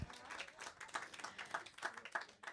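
An audience claps at a benefit concert by musicians from the San Francisco Opera and Ballet orchestras. The applause is faint and somewhat distant, with uneven bursts of clapping across the whole moment.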